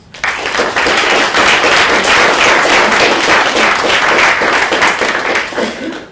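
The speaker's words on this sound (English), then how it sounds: "please join with me in giving them a round of applause" A room full of people gives a loud, sustained round of applause for a research team, dense clapping rising quickly and holding steady for several seconds before tapering, with a few chuckles mixed in.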